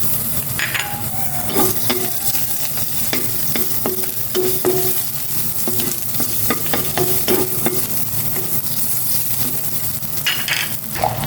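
Garlic sautéing in a hot pan, a steady loud sizzle with repeated scraping and clinking of a utensil stirring against the pan throughout, no talk.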